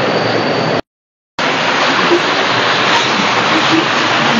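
A fast-flowing river in a valley rushes in a loud, steady, broadband roar, close by and continuous, broken once by a brief dropout of total silence.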